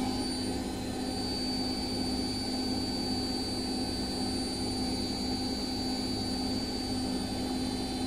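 Bosch washing machine on a heavily unbalanced spin cycle, a steady, loud mechanical whine with a low, rhythmic pulsing hum underneath, continuous and close throughout with no voices.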